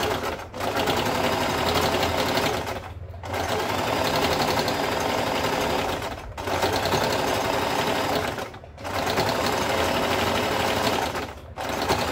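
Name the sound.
sewing machine stitching a blouse piece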